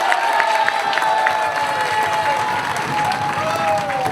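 An audience claps together at a political party congress in St Pierre, a dense, sustained round of applause with some crowd noise throughout, loud and close.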